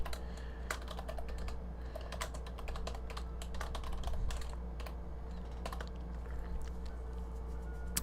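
Irregular keystrokes tapped on a computer keyboard, close and clear, with short bursts and pauses over a steady low hum and no talking.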